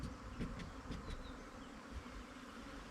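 Honey bee foragers buzz steadily as they return to a hive after an artificial swarm split, a soft continuous hum with a few brief, nearer wingbeat passes.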